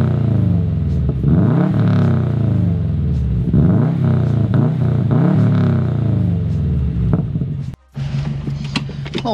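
A Subaru EJ boxer engine idles and revs repeatedly with rising whooshes, loud and close, then briefly cuts out before picking up again.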